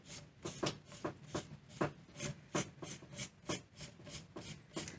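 Replacement eyecup being twisted onto Vanguard Endeavor binoculars, a rapid series of small dry rubbing scrapes and ratcheting clicks in a quick regular rhythm, faint and very close, no voices.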